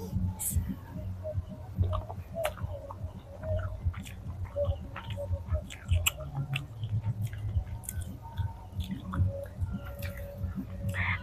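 Close, soft chewing of pitha rice cakes eaten with date palm jaggery, a steady rhythm of moist mastication and small bites, with a voice speaking quietly at times.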